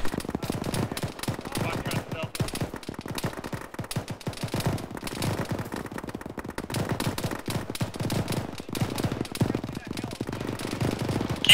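Sustained rapid automatic gunfire from a firefight in Arma, a continuous dense rattle of overlapping shots lasting the whole stretch, with voices talking over it.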